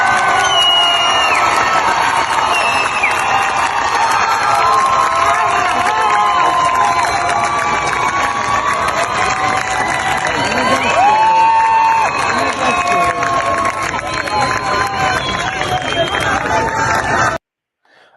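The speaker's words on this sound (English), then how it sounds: "a bunch of people standing around cheering as women throw their headscarves into a fire" A large outdoor crowd cheers and shouts loudly as women throw their headscarves into a fire, a dense roar of voices and whoops that runs the whole time and then cuts off abruptly.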